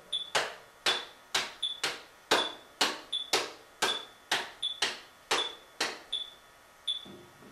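A drum kit plays an inverted quarter-note triplet fill as a steady run of about fifteen sharp, close hits. Each crack rings out with bright cymbal-like sizzle and decays quickly before the next stroke.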